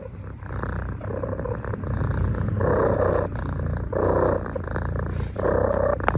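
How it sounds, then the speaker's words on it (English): Close, steady cat purring in repeated breaths, with a faint high whistle riding on each inhale. "still whistles when he purrs"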